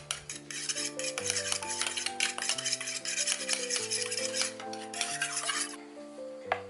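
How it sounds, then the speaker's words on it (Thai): Egg yolk whisked with plain water for glazing custard salted-egg lava mooncakes, a soft continuous scraping and clinking of utensil in a bowl beneath prominent background music. "เราจะเตรียมไข่แดงผสมกับน้ำเปล่านะคะ ไว้สำหรับทาหน้านะคะ"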